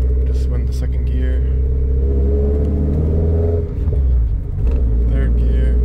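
A Nissan Silvia S15 Spec S with a naturally aspirated engine and five-speed manual shifts into second gear, giving a loud, steady engine drone and rumble with a brief dip as the revs change mid-shift.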